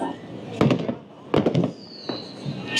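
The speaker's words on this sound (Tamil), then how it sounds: "அங்க ஒரு பட்டாசு வெடிக்கிறாங்க." Firecrackers burst at a street celebration in Lima, three sharp loud cracks spaced about a second apart, with crowd noise and voices in the background.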